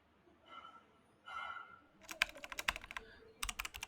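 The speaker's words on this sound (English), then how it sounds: "So in that I can just simply type." Computer keyboard keys clicking in quick close bursts as a prompt is typed into an AI image generation page, preceded by two soft muffled sounds, with no talking.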